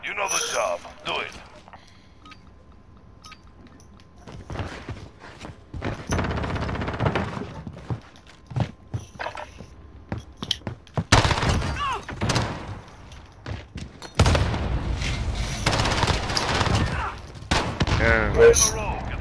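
Bursts of gunfire in the shooter Modern Warfare during a Gunfight tournament match, with loud clustered volleys and rapid shots breaking out in waves between quieter stretches, with voices talking over the action.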